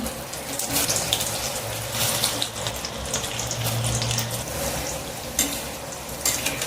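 Okra (ladies finger) pakoda fries in hot oil, giving a steady, dense sizzling hiss that runs unbroken throughout with no talking.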